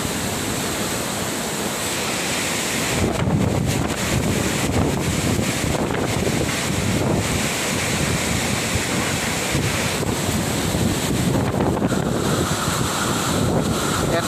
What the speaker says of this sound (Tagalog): Pinagsabay na yung hangin at ulan